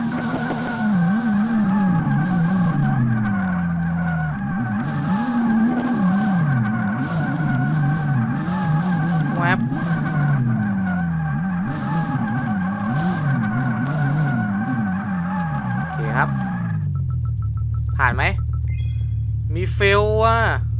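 Cars drifting in the video game Drift 21, with a continuous loud engine drone and sliding tire noise under talk, rising and falling as the car swings through turns.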